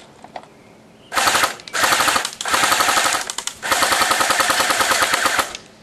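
Airsoft T3 .30 cal gun firing at full rate in four rapid, loud bursts of tightly spaced shots separated by brief pauses, close and without voices.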